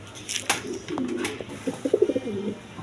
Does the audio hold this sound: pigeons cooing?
yes